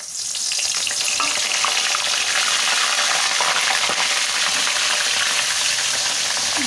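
Fish frying in a pan of hot oil gives a loud, dense, continuous sizzle that starts up abruptly and holds steady throughout, with no voices.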